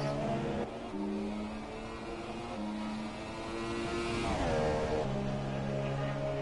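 Several race cars drive in a racing video game at the Bahrain Grand Prix, their engines droning with shifting revs and one pitch sweep, steady and fairly loud with no talk.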